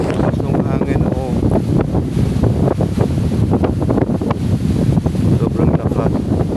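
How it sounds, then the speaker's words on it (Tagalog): Strong wind roars steadily into the microphone on a farm, buffeting it throughout, with people talking faintly underneath. "Lakas ng hangin, oh."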